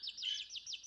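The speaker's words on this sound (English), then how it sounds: "They're both chirping at the imaginary prince." Pet birds chirp in quick, high repeated trills, faint but clear, with no talk over them.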